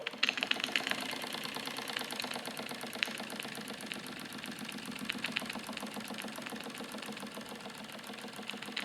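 A small Wilesco D455 toy steam engine runs steadily with a fast, even mechanical ticking and chuffing, close and continuous throughout, with no voices.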